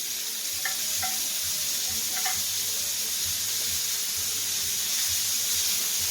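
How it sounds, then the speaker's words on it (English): Browning, bubbling butter sizzles steadily in a pan as a steak is basted, a close continuous hiss with faint spoon taps and light spattering throughout. "when you see your butter starting to brown or to bubble, then you can start basting your steak"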